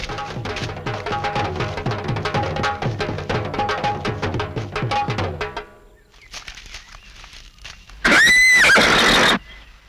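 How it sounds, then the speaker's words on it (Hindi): Horses in a historical drama scene move with a rapid run of hoofbeats, then one loud, close neigh rings out near the end. "ये घोड़े बांध दो।"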